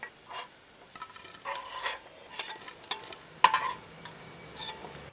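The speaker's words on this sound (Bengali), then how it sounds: "এদিকে মাছটাও ভাজা হয়ে গেছে, মাছটাও তুলে নিচ্ছি।" Fried eel fish being lifted out of hot oil in a home kitchen, with soft sizzling and a few scattered clinks and scrapes of utensils, fairly faint and close, with no talking.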